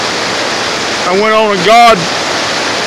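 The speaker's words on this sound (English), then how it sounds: "This is the Nantahala River that is on a Forest Service road" Nantahala River rushing past a campsite along a Forest Service road, a steady broadband water hiss running throughout while someone speaks briefly over it.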